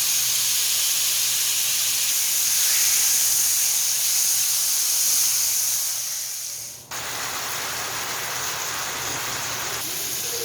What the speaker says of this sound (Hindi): मैं इसमें डालूंगी 2 टेबलस्पून ऑयल, चिकन ऐड कर दूंगी और इसको कुक कर लेंगे